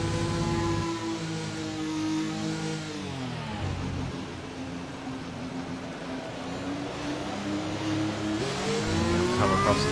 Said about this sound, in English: He's nursing that McLaren around a very greasy Vietnam track